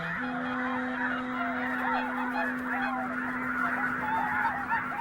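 A large flock of red-breasted geese honks continuously, dense overlapping calls filling the air, with a steady low drone underneath.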